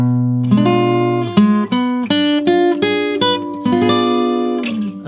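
Guitar strums a diminished chord in a chord-melody passage, with sustained harmonic notes and several plucked changes across the phrase, loud and close with no talking.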